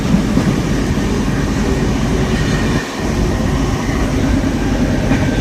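The Yeshwantpur–Lucknow Superfast Express 12539 runs at speed, heard from inside a carriage as a loud, steady rumble and rattle of wheels on rails that dips briefly once before the constant roar resumes.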